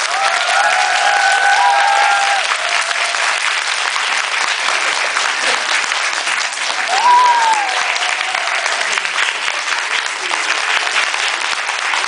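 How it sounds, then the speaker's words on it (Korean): Sustained applause from a large theatre audience after a play's post-show talk fills the whole stretch, steady and dense, with brief faint tonal sounds over it. "다시 한번 큰 박수 부탁드립니다"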